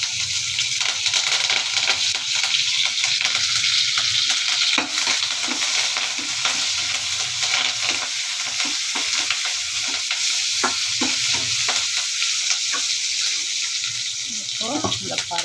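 Mustard seeds, garlic and coriander fry and get stirred in a pan for carrot and brinjal sambar, a steady loud sizzle with repeated scraping and clinking of the spoon throughout.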